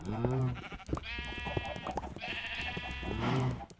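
Minecraft sheep bleat several times in quick succession, loud and close, with wavering calls overlapping over a busy game background.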